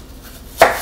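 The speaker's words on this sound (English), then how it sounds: "take my knife and cut it in half" A kitchen knife slicing an apple in half on a cutting board gives a single crisp, close chop near the end, after near silence.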